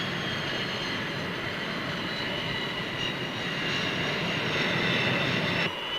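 Jet aircraft engine roaring steadily at full power as the plane lands on the USS Nimitz carrier deck, a loud continuous broadband rumble with a high whine layered on top.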